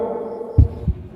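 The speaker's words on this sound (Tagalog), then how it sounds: "Pakinggan mo lang ang tibok ng puso mo." Heartbeat sound effect in an animated horror story, two deep, booming thumps close together over a low, droning hum.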